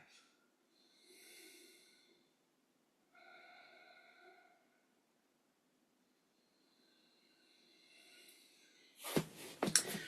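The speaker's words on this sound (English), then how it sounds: "Breathe deeply in through the nose and out through the nose" Slow, deep breaths drawn in and let out through the nose during a yoga session, soft and close, with long quiet pauses between breaths, ending in a louder burst of noise.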